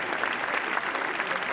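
A film team applauds on the red carpet steps at Cannes in a short, even burst of clapping with a crowd murmur beneath it.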